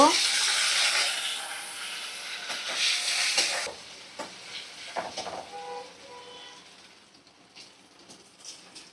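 Whole cumin, chopped onion and cut potatoes hit hot oil in a pan, starting with a loud hissing sizzle that settles into softer crackling, with clatters of stirring and a voice talking now and then.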